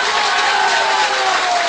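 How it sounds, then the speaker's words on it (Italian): Loud, dense applause from a big stadium crowd at a rugby match fills the air, a continuous roar of clapping with no pauses. "Gli applausi scroscianti del folto pubblico presente quest'oggi sugli spalti del Montano."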